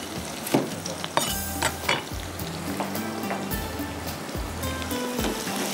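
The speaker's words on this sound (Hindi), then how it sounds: "हल्का सा प्याज को आपने इस तरह से कच्चे पक्की कर लेने हैं, थोड़ी सी ये फ्राई हो जाएगी।" Chopped onions frying in a pan over high flame for a yogurt-based dish, giving a loud, continuous crackling sizzle with sharp spatters and intermittent scraping from stirring. No voice is heard.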